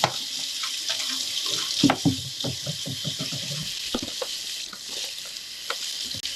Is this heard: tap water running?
yes